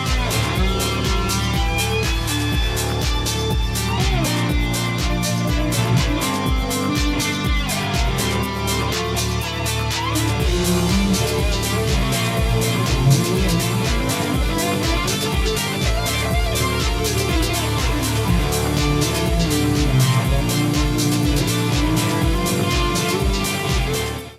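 An electric guitar through a Demon Effects copy of the Friedman BE-OD-X overdrive pedal, playing loud, dense, dirty distorted chugging riffs with steady palm-muted low pulses, close and continuous without talk.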